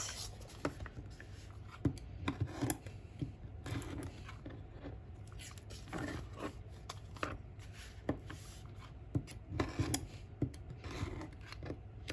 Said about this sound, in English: I use my rotary cutter and I just cut off the corners like that.